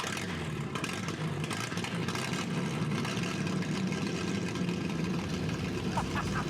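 An old truck engine runs on its own at a steady, rough rumble, close and fairly loud throughout, with no clear start-up moment.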